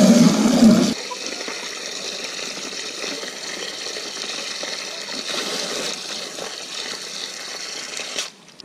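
Water rushes loudly at first, then settles into a steady hiss and trickle as a container fills, continuous and close, cutting off near the end.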